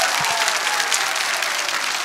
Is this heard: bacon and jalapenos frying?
no